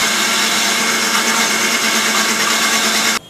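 An electric blender beating lime juice with sugar and mint, a loud continuous high whirring motor that runs steadily and then cuts off abruptly at the end.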